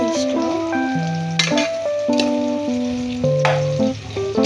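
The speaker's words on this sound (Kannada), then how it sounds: "ಇದು ಗೋಲ್ಡನ್ ಬ್ರೌನ್ ಆಗಲಿ ಚೆನ್ನಾಗಿ ಫ್ರೈ ಮಾಡ್ಕೊಳ್ಳಿ." Chicken pulao ingredients fry to golden brown in a pan with a steady, close sizzle that runs the whole time, under stepped tonal background music.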